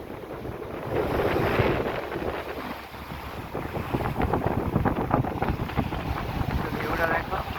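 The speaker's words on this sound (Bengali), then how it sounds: "ঢেউগুলো শুনতে দেখো।" Sea waves wash in on a breezy morning as water floods across the shore, with a steady roar of surf and gusty wind buffeting the microphone throughout, loud and continuous.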